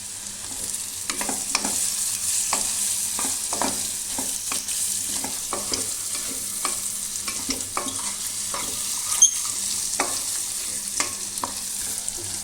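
Tomato sizzling in a hot pan for omelette curry, a steady fry hiss under repeated scraping stir strokes at an even rhythm, close and moderately loud, no voices.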